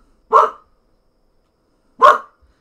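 A pet dog named Simba lets out two loud, close barks about a second and a half apart, each short and sharp, with silence between them and no voices.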